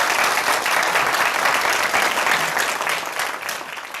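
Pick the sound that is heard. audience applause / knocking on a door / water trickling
audience applause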